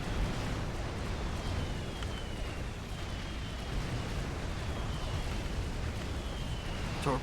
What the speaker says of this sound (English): You see all of the frigates firing up at them.